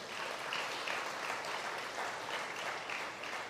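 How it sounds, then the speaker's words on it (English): An audience gives a round of applause for volunteer facilitators at a youth internship engagement function, steady dense clapping that holds evenly at a moderate level throughout with no speech over it. "Give them a round of applause."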